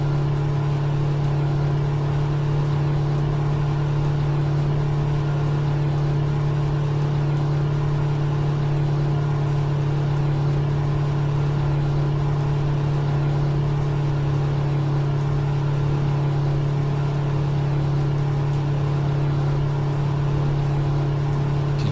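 Kenworth W521 truck engine droning steadily near 1,800 RPM, its top end, while hauling a heavy load in American Truck Simulator; a constant low hum with no change in pitch throughout, loud and unbroken.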